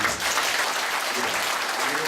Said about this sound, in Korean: 회장님 박수 한번 더 부탁드립니다.